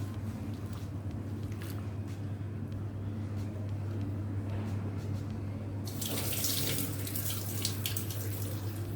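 Water pours steadily over washed green beans as they drain, a continuous splashing rush that grows brighter and louder near the end, with a low hum beneath it.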